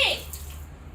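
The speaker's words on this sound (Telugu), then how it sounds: "షింక్ లో అన్ని వాటర్ ఇక్కడ పడుతున్నాయి." A brief gush of water splashes into a sink, loudest at the start and quickly fading into a low background hum.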